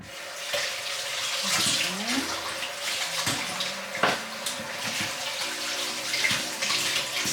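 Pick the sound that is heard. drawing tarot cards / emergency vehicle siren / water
water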